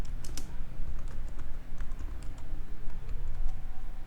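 Computer keyboard keys clatter in quick, uneven bursts as a note is typed into PDFgear, close and clear over a steady background hiss, with no talking.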